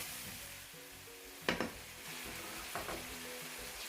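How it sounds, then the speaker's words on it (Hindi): Chicken added to tomatoes frying in a pan during home cooking of chicken chana: a soft, steady sizzle broken by two sharp bursts of clattering and spitting as pieces drop in. "और उसके बाद मैंने चिकन डाल दिया।"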